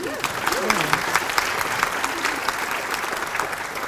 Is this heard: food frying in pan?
no